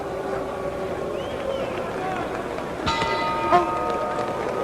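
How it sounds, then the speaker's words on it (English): A boxing bell rings to end a middleweight bout involving Rubin "Hurricane" Carter, a sharp metallic strike around the three-second mark with a brief second ping, heard over steady arena crowd noise. "There's the bell ending the fight"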